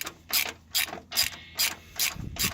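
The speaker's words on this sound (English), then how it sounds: "So just tighten those bolts" A ratchet tightens the bolts on the front shock mount of a 1995 Impala SS while Monroe shocks are fitted. Six evenly spaced bursts of loud, close clicking follow one another with short pauses between them.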